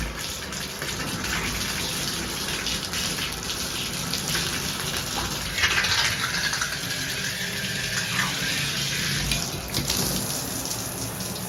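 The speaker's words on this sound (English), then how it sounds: "that takes a long delay for the shower to run properly" Hotel shower at the Hotel Citadelle in Quebec City running steadily, a loud, continuous hiss of spraying water close by, alone with no talking.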